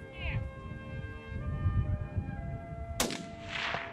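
A rifle shot during a deer hunt in Montana, one sharp crack ringing out from a distance under low wind noise and murmuring voices.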